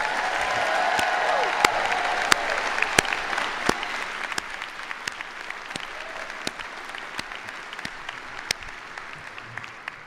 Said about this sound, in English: Can I get a round of applause for the SUNY Oswego class of